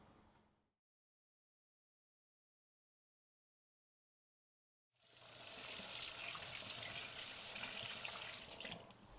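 Urad dal vadas hit medium-hot oil and set off a steady, dense sizzle that starts abruptly after a stretch of near silence and holds loud and even to the end.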